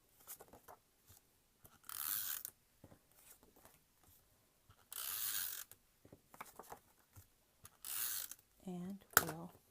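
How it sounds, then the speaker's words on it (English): A tape runner rolls adhesive onto a greeting card in short, close, scratchy ratcheting strokes, about four distinct passes with brief clicks between them, and a short voiced sound near the end. "put the tape runner on there."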